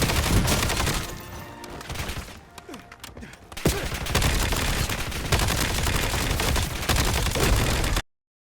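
Heavy gunfire rattles through a Call of Duty Black Ops 7 firefight: dense automatic bursts and thumping blasts fill the scene almost without pause, dipping briefly before surging loud again.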